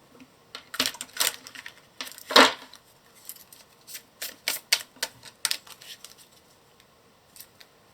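Tarot cards are shuffled and pulled during a reading, a run of close, crisp riffling snaps and slaps with short pauses between bursts, no talking over them.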